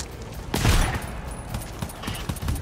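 Bursts of gunfire in a cooperative first-person shooter game, with a loud close volley early on followed by scattered lighter shots, no talking.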